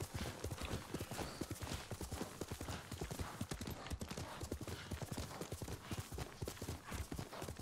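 Horse hooves galloping steadily in the Ghost of Tsushima video game, a dense, continuous clip-clop rhythm that holds close and loud throughout with no talking.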